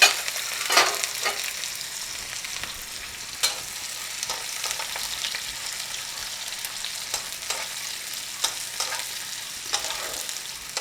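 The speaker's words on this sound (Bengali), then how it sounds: "এবার আগে থেকে কুচিয়ে রাখা পেঁয়াজগুলোকে আমি ভেজে নেব।" Chopped onions frying in hot oil for an egg korma curry, with a steady crackling sizzle and occasional sharper spatters and spoon scrapes as they are stirred, close and alone without talk.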